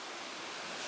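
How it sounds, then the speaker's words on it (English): A loud waterfall roars on an island, a dense, steady rush of falling water filling the whole moment with no other sounds. "Because there's a waterfall."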